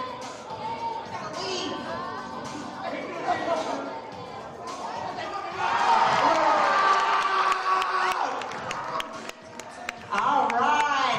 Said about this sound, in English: Clap it up for the Phoenix Globetrotters.